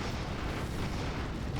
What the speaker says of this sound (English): Look, this blew up, but it didn't explode the rest of it.